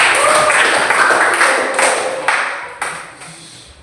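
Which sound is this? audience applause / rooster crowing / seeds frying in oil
audience applause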